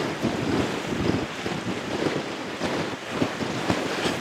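Ocean waves wash steadily against the shore under constant blustery wind buffeting the microphone, a loud, continuous roar with no voices.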